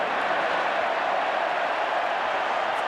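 A rugby league stadium crowd at a State of Origin match applauds a good kick, a steady, dense wash of clapping and murmur that holds evenly throughout without any voices standing out.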